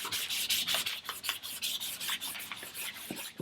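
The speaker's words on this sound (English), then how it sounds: "I'm just going to use a little bit of WD-40 and some 2000 grit sandpaper, so very fine" Fine 2000-grit sandpaper with WD-40 rubs against the drive shaft of a Mercury 9.8 hp boat motor, a close, steady run of quick scratchy back-and-forth strokes with no talk.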